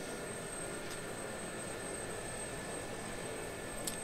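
A Gazelle helicopter in the DCS flight simulator hums along as a steady, even cabin drone with a thin high whine over it, heard alone without talk.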